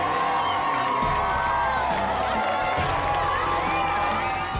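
A crowd of strangers lining the streets cheers loudly and continuously, with whoops, shouts and scattered clapping blending into a dense, sustained roar.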